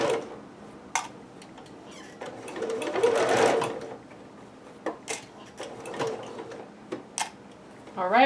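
A sewing machine stitches fabric for a Pikachu dress, whirring in a steady run of close stitching with short starts and stops around it and faint clicks between bursts.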